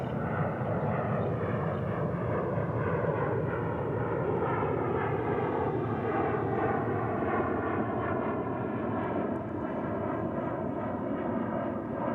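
A McDonnell Douglas MD-11 at Dallas/Fort Worth International Airport, a loud, steady jet roar with a rumbling, droning texture that holds strong and unbroken throughout.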